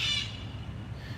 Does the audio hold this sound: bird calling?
yes